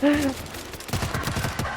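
Video-game gunfire from World War Z, with a burst of rapid, closely spaced shots following a brief voice at the start; the shots are loud and close.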